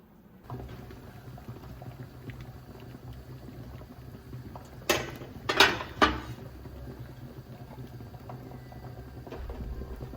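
A purslane marinade boils in a pot with a faint, steady bubbling and simmering. A few brief metallic clinks of kitchenware break in midway.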